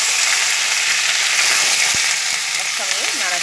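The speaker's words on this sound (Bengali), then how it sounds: "একসঙ্গে ভাজা হচ্ছে, সেই সময় এর মধ্যে বাঁধাকপি পাতাটা দিয়ে দিলাম।" Cumin seeds, ginger and cabbage leaves sizzle loudly in hot oil for masoor lentil dal, a continuous close, bright frying hiss with a few brief thuds and scrapes of stirring near the end, and no talk.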